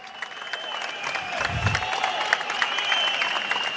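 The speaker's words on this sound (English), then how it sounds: "there's your Texas crowd right now" A Texas crowd at a boxing weigh-in cheers and shouts, building into a loud, continuous roar with whistles and yells, with a thump near the middle.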